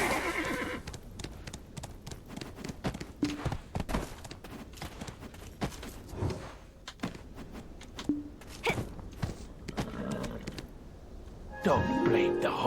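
A horse in the video game Black Desert Online clops along on hooves with an uneven rhythm and whinnies now and then. Game effects and a voice come and go in the mix.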